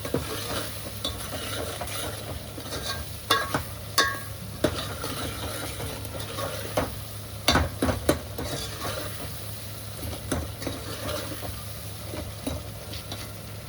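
Masala for rajma roasting in oil in a pan, a steady sizzle under repeated scraping and knocking of a spoon stirring against the metal, close and moderately loud.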